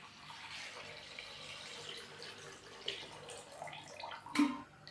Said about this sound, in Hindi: अभी हम इसके अंदर यखनी डालेंगे।